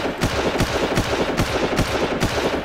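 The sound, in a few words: gunfire from the player's gun in the video game Far Cry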